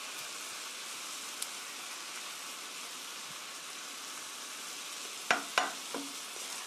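Meat for japchae sizzles in a pan with a quiet, steady frying hiss, and a few sharp clatters of stirring come near the end.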